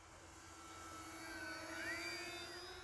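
A HobbyKing Avios Twin Otter 1600mm RC airplane flies slowly overhead, its electric motor whine steady and moderately distant, shifting pitch slightly as it passes.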